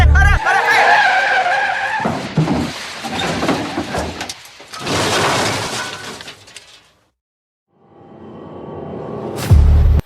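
A car skids as its brakes fail, giving a loud tire screech and rough scraping over roughly seven seconds, followed by a brief silence and then a fresh burst of noise.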